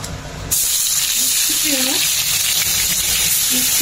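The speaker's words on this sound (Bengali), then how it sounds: "এবার এই মশলাগুলো আস্তে আস্তে দিয়ে ভালো করে ভাজবো" Ground spices frying in a pan for a creamy egg curry. A loud, hissing sizzle bursts in after a brief quiet start and stays steady, with a faint voice passing briefly in the background.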